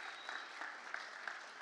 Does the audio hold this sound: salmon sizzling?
no